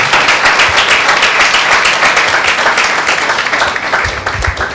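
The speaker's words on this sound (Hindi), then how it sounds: "आइए ऐसे महान परमेश्वर प्रभु यीशु मसीह को हम जोरदार ताली देते हैं।" A church congregation at a Sunday meeting claps loudly and continuously, a dense wash of applause with a few louder hand strikes near the end as it starts to fade.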